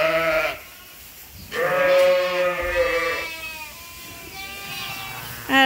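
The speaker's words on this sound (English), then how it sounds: "Each quarter has 30 ewes and their lambs." Ewes and lambs bleat inside a lamb-rearing barn divided into pens of thirty ewes with their lambs. Several loud, close bleats overlap, some deep and some higher-pitched, with short pauses between them.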